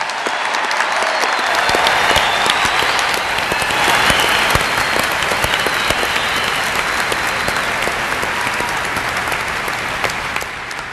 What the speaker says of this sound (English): ask everyone to give them a hearty round of applause